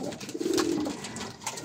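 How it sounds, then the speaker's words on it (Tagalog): A fancier's pigeon cooing close by, one soft low drawn-out coo over faint background noise. "Ang ibon natin na nandito sa ibabaw, si Baby G."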